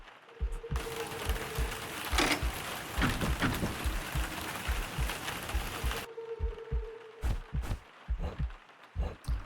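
Steady soft rain ambience in a point-and-click game room, a constant hiss with a brief cutout and quieter stretch, overlaid by repeated clicking and ratcheting mechanical ticks in the foreground.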